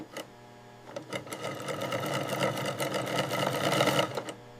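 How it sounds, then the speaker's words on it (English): An industrial sewing machine stitches a premium leather jacket in a factory, a rapid mechanical whirring rattle that starts with a few short bursts and then runs continuously, close and moderately loud, with no voices. "Luxury stitching begins to form the jacket's core structure."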